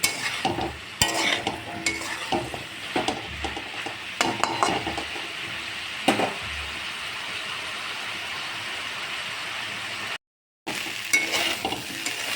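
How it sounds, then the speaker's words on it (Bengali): Potatoes and vegetable stems fry in an uncovered pan, stirred with repeated scraping clatters of a utensil over a steady sizzle, the stirring busy early and then easing into constant frying hiss. "ঢাকনাটা তুলে নিয়েছি, আবার একটু নেড়ে চেড়ে দিচ্ছি"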